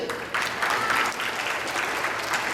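Audience applause at a fifth grade graduation ceremony, honoring the graduates' families: a steady, dense burst of clapping from a crowd that holds for the whole moment with no talk over it.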